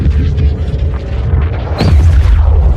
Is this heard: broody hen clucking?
no